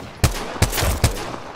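Three sharp shots ring out in quick, evenly spaced succession, each a hard close crack with a short tail, from a weapon in the shooter video game Apex Legends.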